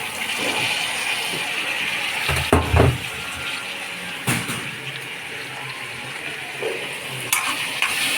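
Chopped tomatoes are stirred and fried in a pan for a curry: a continuous soft sizzle broken by louder scraping and clattering of the spoon against the pan at a few moments.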